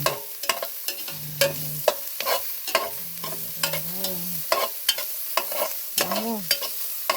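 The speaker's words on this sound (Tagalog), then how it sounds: "Ito namang bawang. Halo-haloin yung bawang." Garlic and onion frying in a pan with a spatula stirring, steady sizzle under repeated scraping clicks, close and fairly loud, with a few short tonal squeaks from the pan.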